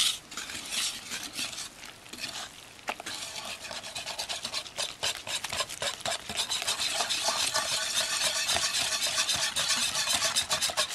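Pandan kutsinta mixture with pandan water being stirred in a bowl: a continuous scraping and swishing that grows denser and steadier toward the end, close and fairly quiet, with no voices.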